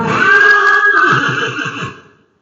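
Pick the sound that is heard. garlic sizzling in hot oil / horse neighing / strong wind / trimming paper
horse neighing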